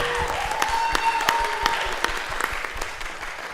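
An audience at an art exhibition's Third Friday event, a record-breaking crowd, claps steadily and densely throughout, a sustained close wash of applause with scattered sharper individual claps.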